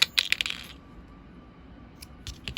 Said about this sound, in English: And snip that tail off.